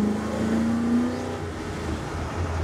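The engine of a 1971 Chevrolet C10 revs and accelerates smoothly, a moderate steady hum rising briefly in pitch and then settling into an even drone.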